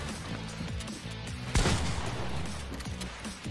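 Video-game gunfire crackles in quick bursts of shots at moderate distance, with one louder close shot midway, during a Fortnite-style battle royale match, under low game ambience.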